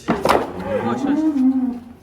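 A white Simmental-cross cow gives a single loud, close moo on an Indonesian cattle farm, starting with a rough burst and settling into a sustained low drawn-out bellow that fades at the end.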